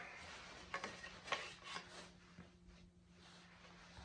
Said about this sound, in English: I can scrape some binding to help with the fitting